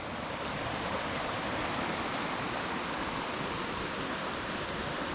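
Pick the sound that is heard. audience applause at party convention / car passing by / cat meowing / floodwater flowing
floodwater flowing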